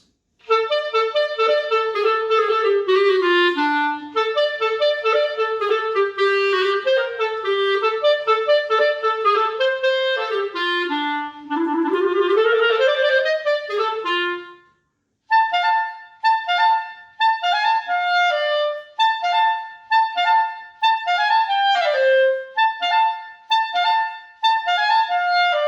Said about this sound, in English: I play the clarinet